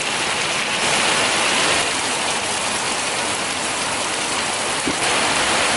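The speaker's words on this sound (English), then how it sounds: "Just a little bit of rain." Tropical rain pours steadily onto a garden, a dense, even hiss of drops striking leaves and ground, close and continuous throughout with no voices.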